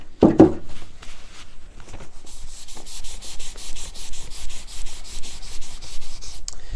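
Rubbing acetone over a chalk-painted kitchen cabinet surface: a steady, close scratchy rubbing in repeated back-and-forth strokes, with a few louder knocks at the start and no talking.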